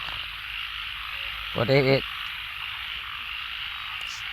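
A frog caught during a morning hunt for frogs croaks once in a short, close, burst of rapid pulsed calls against a steady background hiss, with a brief spoken voice nearby.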